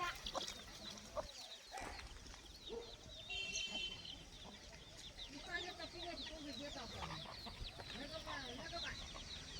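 Native free-range desi chickens cluck and call around a farmyard in a busy, continuous stream of overlapping clucks, with a person speaking intermittently underneath.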